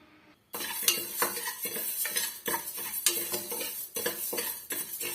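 Toor and moong dal dry-roasted in a pan over medium heat for Andhra pappu, the lentils rattling and scraping as a metal spoon stirs them in quick repeated strokes, close and fairly loud, after a brief quiet start.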